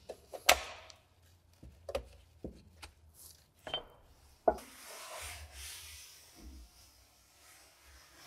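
Scraping and knocking on an Audi S-Tronic 7-speed transmission oil pan as it is cleaned and the gasket removed: several sharp close taps and clunks, then a longer rough rubbing scrape, with no talking.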